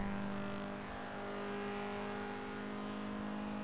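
A stock Nissan 240SX in a racing video game holds a steady engine drone during a drag run, a sustained tonal hum with gradual pitch changes and no talk over it.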